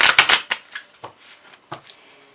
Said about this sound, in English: we're going to pull some tarot cards, and let's shuffle